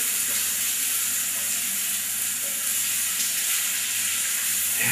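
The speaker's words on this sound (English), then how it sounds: "you can hear the mustard seeds popping" Black mustard seeds frying in hot oil, a loud steady sizzle with scattered faint pops throughout, close and continuous with no talk.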